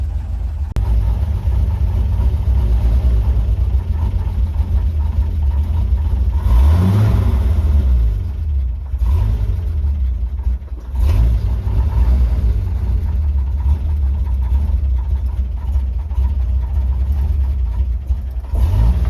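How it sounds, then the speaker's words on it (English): A 1956 International S-160 4x4 truck engine with vacuum leaks runs close and loud, holding a low rumbling idle with a couple of brief revs rising and falling midway. "But it's already idling slower."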